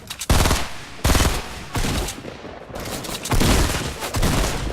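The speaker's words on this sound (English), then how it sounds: "I'm gonna shoot the pistol at it." Pistol fire against a wall in a video game rings out as several loud, sharp bursts of rapid shots separated by brief lulls.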